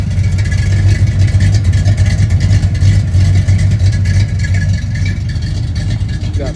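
Cammed 305 V8 in a lifted 1981 K10 truck running through brush-welded mufflers, a loud, steady, deep rumble held close up without pause, no talking over it.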